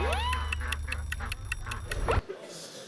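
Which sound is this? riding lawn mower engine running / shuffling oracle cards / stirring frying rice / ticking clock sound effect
ticking clock sound effect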